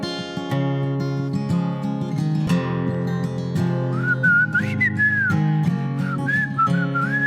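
A person whistles a melodic tune over sustained background music, the clear pitched whistle rising and sliding in phrases, close and fairly loud.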